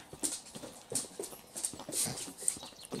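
A dog whimpers in short, high, repeated cries, about five of them spaced evenly, in the video game Medieval Dynasty. Faint scuffling sounds sit between the cries.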